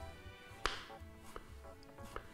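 Knife chopping eggplant into small cubes on a cutting board in a home kitchen, a few sharp separate taps spaced apart, fairly quiet over low background noise.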